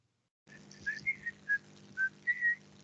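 Whistled tune from Snow White and the Seven Dwarfs, a short melodic run of clear separate notes, close and alone after a moment of silence.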